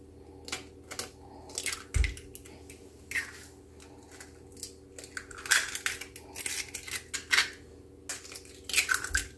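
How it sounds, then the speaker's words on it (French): Three eggs are cracked into a bowl for a baking batter. Quiet, close, crisp cracks and crunchy snaps come in scattered clusters against a faint steady background hum. "je vais venir casser mes 3 œufs"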